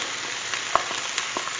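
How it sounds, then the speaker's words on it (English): Onions frying in oil released from crisping chorizo for chili con carne, giving a dense, steady close-up sizzle with a few small pops and light stirring taps. "we're going to use that oil to fry our onions"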